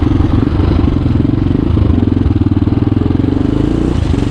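A modified Hero Honda motorcycle engine thumps loudly and close while being ridden, a rapid, steady, throaty pulse that holds an even rhythm throughout.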